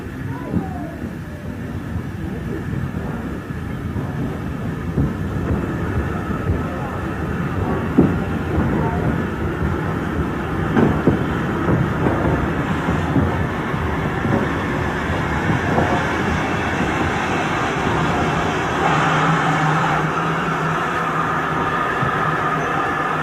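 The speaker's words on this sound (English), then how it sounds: "That railway's largest class of express passenger locomotives was Dougal Drummond's T9 class, one of which works today." A Southern Railway Drummond T9 class express passenger steam locomotive, No. 120, runs past with a steady heavy rumble and rolling wheel noise that stays fairly constant and moderately loud throughout, with no talk over it.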